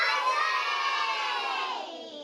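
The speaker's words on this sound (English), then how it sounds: "Can you shout out ice cream for me?" A crowd of children shouts "ice cream" together in one loud, sustained burst lasting about two seconds and tapering slightly at the end.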